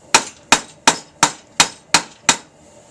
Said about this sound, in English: Hammer the other corner.